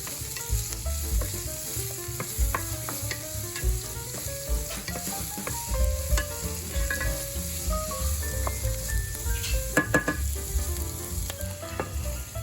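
Sweet onions sauté in a pan with a steady, close sizzle, punctuated by scraping stirs and occasional utensil clicks against the cookware, with no talking over it.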